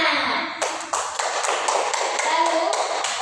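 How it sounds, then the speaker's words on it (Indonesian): A classroom applauding: a burst of quick, dense hand claps from many pupils, loud and close, starting just after a short spoken moment and continuing to the end. "Oke, tepuk tangan."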